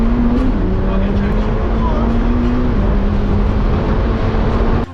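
A McLaren race car accelerates hard, its engine note a loud, continuous roar that climbs and holds steady for the full stretch, close and dominant throughout.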